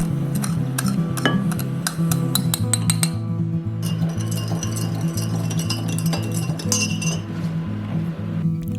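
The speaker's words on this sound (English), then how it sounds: "add your sugar and stir to dissolve." A spoon stirs sugar into 750ml of warm water, clinking repeatedly and rapidly against glass in an irregular rhythm, close and clear over steady background music.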